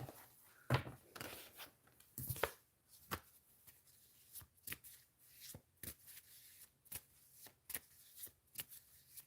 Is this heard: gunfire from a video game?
no